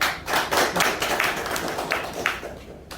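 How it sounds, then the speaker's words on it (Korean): An audience at an industry-academia forum in a coffee shop's third-floor space claps in a dense burst that gradually thins and fades over a few seconds, with no voices over it. "다시 한번 감사의 박수 부탁드립니다."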